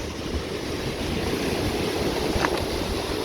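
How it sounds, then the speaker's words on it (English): Continuous roar of rushing water at the footbridge above Nevada Fall in Yosemite, with pouring cascades filling the air in a steady broadband wash and a little wind buffeting the microphone. "that's where people have gotten swept over the waterfall"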